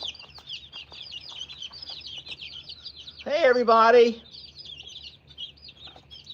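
A rooster and chickens cluck and chirp softly in a steady chatter, while a person briefly speaks over them midway.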